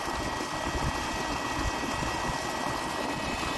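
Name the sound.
solar water pump running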